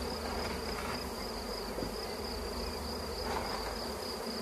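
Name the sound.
honeybees buzzing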